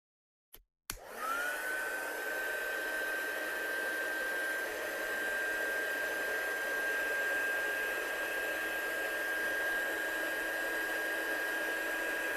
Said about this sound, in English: I'm going to bring the heat gun up now.